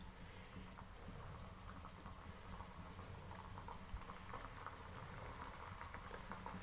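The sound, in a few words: coconut pitha frying in hot refined oil in a wok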